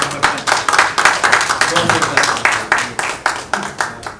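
A small workshop audience claps for speakers, sparse distinct handclaps in an uneven rhythm, close and fairly loud, with some talk underneath.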